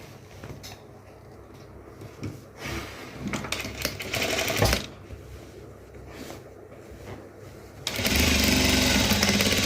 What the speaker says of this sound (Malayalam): ഇതുപോലെ ടക്ക് തയ്ച്ച് കൊടുക്കണം.